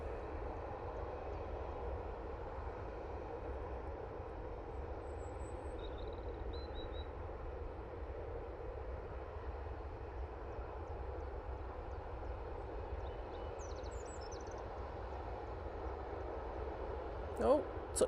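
An EasyJet Airbus A320neo arriving from Hamburg makes a steady, distant engine drone as it comes in to land, a continuous rumble with faint bird calls and a brief louder bump near the end.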